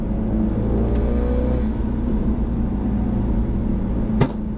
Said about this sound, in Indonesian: jadi ada suara wastegate-nya, dan ketika kita lepas ada kayak jazz tak tak tak tak tak